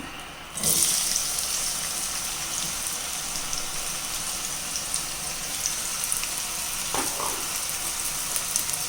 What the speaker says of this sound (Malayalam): എണ്ണ ചൂടായി വന്നിട്ടുണ്ട്. നമുക്കിതിലേക്ക് ഒരു 2 സവാള അരിഞ്ഞു വെച്ചിട്ടുണ്ട്